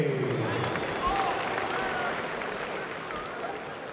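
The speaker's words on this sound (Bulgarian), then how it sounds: "Аплодисменти, Андрей Онофрей!" Audience applause and crowd noise fill an MMA fight venue steadily, a broad wash of clapping that slowly fades a little over a few seconds.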